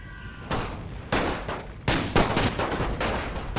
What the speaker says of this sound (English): Just gonna fire on that general. Keep firing, mates.